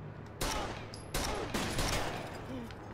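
Bursts of gunfire in the video game Rainbow Six Vegas: three loud, dense volleys in quick succession, each a rapid crackling rush that rings out, close and filling the short span with no talking.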